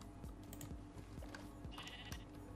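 Short bleats from a sheep in the Minecraft video game repeat several times over a steady, busy game background with faint clicking.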